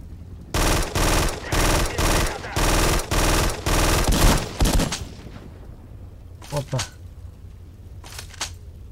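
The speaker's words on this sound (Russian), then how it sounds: "Был сдвоенный выстрел." Video game gunfire: loud bursts of rapid automatic shots in several rhythmic volleys, followed by a few sparser, quieter single shots, with no talking over them.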